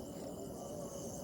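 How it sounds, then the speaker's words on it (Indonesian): Steady, dense insect chirping fills a night-time cemetery, a continuous shrill drone of crickets with no pauses, even in loudness throughout. "Ini suara serangga."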